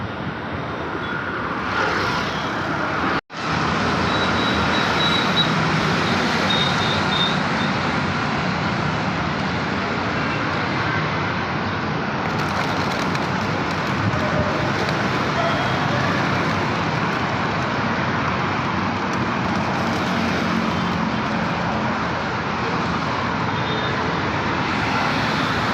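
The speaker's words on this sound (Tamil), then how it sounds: "இதுதான் மும்பை டிராஃபிக்னு நினைக்கிறேங்க" Steady, dense road traffic in Navi Mumbai, a continuous broadband wash of engines and tyres that stays loud and even for the whole stretch, broken only by one brief dropout early on.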